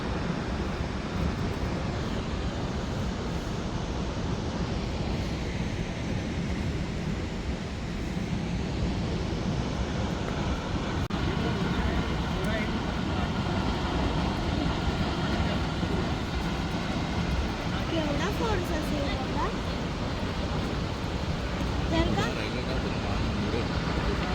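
A waterfall at the main viewpoint near Mahabaleshwar pours down with force, a steady, broad, unbroken roar heard up close, with a voice talking faintly over it.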